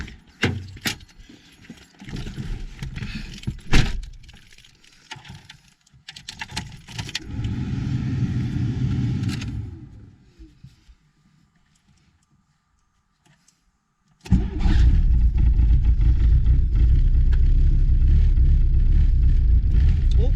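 Keys jangle and a starter cranks in short bursts, then after a quiet pause a car engine catches and settles into a steady, loud idle.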